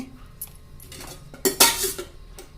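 A spoon mixes rice flour in a metal bowl for carrot paratha dough, making a few scattered scrapes and light taps, then one louder clattering knock against the bowl near the end.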